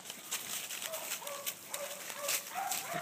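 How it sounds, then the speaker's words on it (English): Papillon puppies play-fighting, with short high yips and small squeaky cries scattered through a busy, noisy room; the sounds are close and fairly steady. "Puppy fight."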